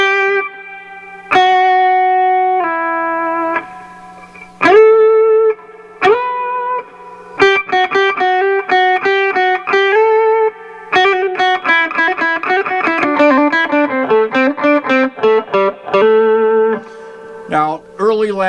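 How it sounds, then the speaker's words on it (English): Electric guitar played through a Monoprice Stage Right 15W amp, stock, with its standard spring reverb tank: single notes and chords ringing out with a reverb tail, sparse at first, then busier phrases, loud and close with no talk. "Let's try some reverb. Here's the standard reverb tank."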